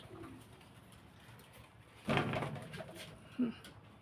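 A pigeon coos softly once or twice against a quiet background, with a brief louder rustle in the middle.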